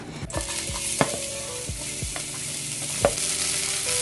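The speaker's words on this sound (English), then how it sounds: "Start by sauteing your onions" Onions sizzle steadily in a hot pan, with a few scraping stir strokes and clinks of a utensil over the constant frying hiss.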